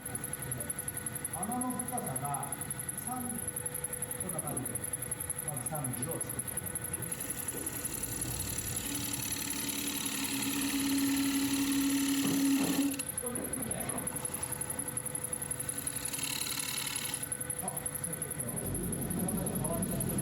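A wood lathe turns a hinoki cypress bowl while a tenon is cut, giving a steady motor whine with tool scraping that rises midway, and a voice talks over it at times.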